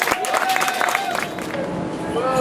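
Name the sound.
round of applause for anniversary honorees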